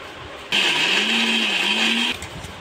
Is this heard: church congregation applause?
no